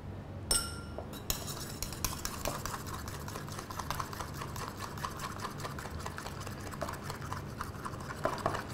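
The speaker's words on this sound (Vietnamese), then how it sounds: "Khuấy đều." A spoon stirring milk tea made with milk powder in a glass: steady, quiet clinking and scraping taps against the glass repeating close by, with no talking.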